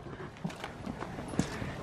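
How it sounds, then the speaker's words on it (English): Horse hooves clip-clop in a few scattered, distinct knocks as horses and ponies are brought in at feeding time, with soft background rustle between the steps. "Let's get the horses in."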